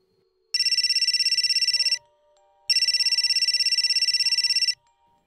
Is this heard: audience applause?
no